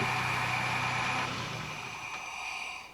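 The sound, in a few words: Nissan Hardbody truck engine idling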